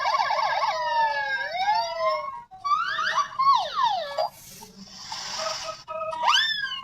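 An electronic toy ambulance siren plays nearby, alternating two-tone warbles, rising sweeps and rapid yelps, loud and continuous without voices.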